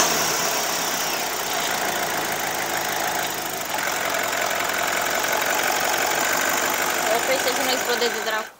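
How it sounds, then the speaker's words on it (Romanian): A BMW N42/N46 petrol engine runs close by with a rough, clattering knock, sounding like a diesel or tractor, steady throughout before cutting off. "a început să sune ca un diesel, ca un tractor"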